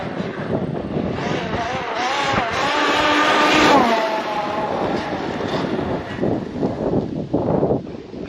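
Arrma Outcast 8s EXB radio-controlled basher car racing over dusty ground, its motor whine rising and falling as the tires grip, loud and near with wind noise on the microphone.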